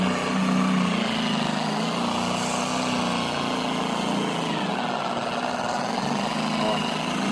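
A car polishing machine works on automotive paint at a raised speed, a loud continuous whirring motor drone that holds steady through the whole stretch.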